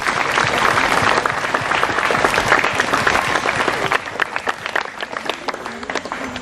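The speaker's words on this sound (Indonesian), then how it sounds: "kita memberikan tepuk tangan meriah" A church congregation at a Catholic Mass opening the 2026 devotion and liturgy year bursts into lively applause, loud and sustained clapping that thins into scattered individual claps toward the end.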